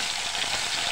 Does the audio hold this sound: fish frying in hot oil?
yes